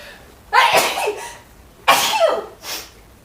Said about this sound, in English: kind of almost want to sneeze now